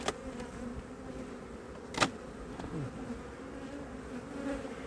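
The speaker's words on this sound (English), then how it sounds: "Look at those bees." Honey bees buzz around an open homestead beehive in a steady, soft drone, with a few individual bees zipping close past now and then, and no talk.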